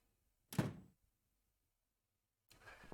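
A door opens in the horror adventure game The Cat Lady: a single solid thunk with a short rattling tail, then near silence, and a softer scraping sound about two seconds later.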